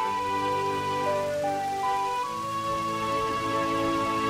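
Steady rain hisses in The Legend of Zelda: Majora's Mask, a constant wash of patter beneath sustained, layered game music tones, with no talk.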